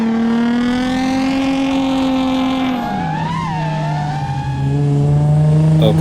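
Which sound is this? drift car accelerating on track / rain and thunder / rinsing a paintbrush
drift car accelerating on track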